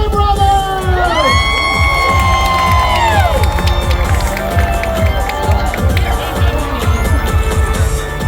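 A large nighttime crowd at Knott's Scary Farm cheers, whoops and yells loudly and continuously, with rising shouts and whistles layered over a dense roar of voices.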